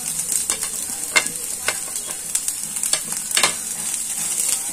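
Mixed vegetables with carrots and corn stir-frying in a pan for vegetable momo filling, a steady close sizzle broken by repeated scraping stirs of the spatula, with no one talking.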